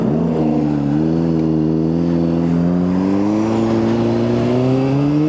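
A Honda CBR600RR sport motorcycle revs up steadily and climbs in pitch as it accelerates away, loud and continuous with no talking.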